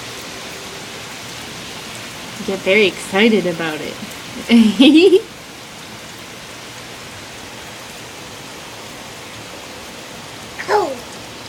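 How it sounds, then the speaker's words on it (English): Heavy rain pours steadily during a thunderstorm, a dense hiss close by that runs throughout while someone speaks briefly over it. "Rain is cold."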